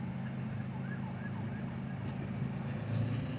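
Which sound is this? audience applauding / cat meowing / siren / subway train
siren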